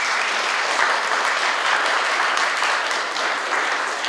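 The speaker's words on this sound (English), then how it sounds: "give them a huge round of applause for being here today." Audience at a school DARE graduation gives a steady, dense round of applause, many hands clapping continuously at an even level throughout with no speech over it.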